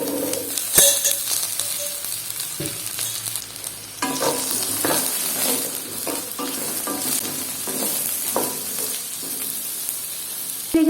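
Oil and eggplant pieces frying in a pan, a steady close sizzle and hiss running throughout, with intermittent stirring scrapes and clinks.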